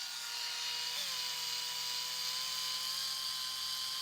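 A HOTO cordless spin scrubber running, a steady high-pitched electric motor whine with a constant tone, close and unbroken, with a slight pitch shift near the start.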